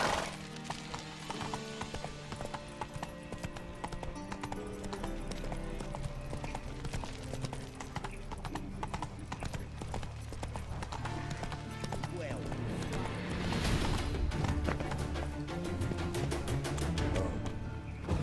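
A horse gallops in The Witcher 3, hooves pounding in a rapid, continuous clip-clop rhythm under swelling game music and some voices, with a faint neigh and louder hoofbeats near the end.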